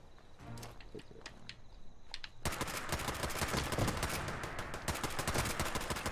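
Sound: small guns firing in Fallout 76 video game

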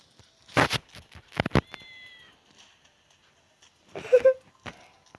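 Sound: cat meowing in video game

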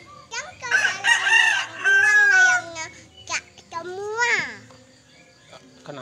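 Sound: chicken crowing

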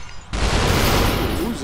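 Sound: Uzi gunfire in the video game Superhot VR

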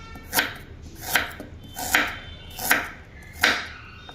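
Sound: chopping ginger with a knife

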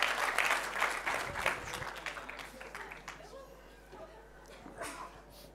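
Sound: audience applause at shipping forum panel

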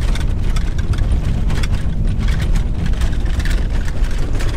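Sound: VW T5 van driving with Bilstein B6 suspension rattling

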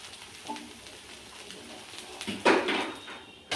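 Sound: ragi egg dosa sizzling on a pan

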